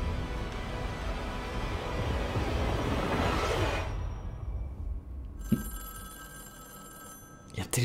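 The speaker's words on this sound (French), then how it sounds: "Il y a un téléphone qui sonne." A telephone rings during the Fortnite Galactus live event, a thin repeating electronic trill emerging after a swelling game rumble fades, faint against the in-game ambience.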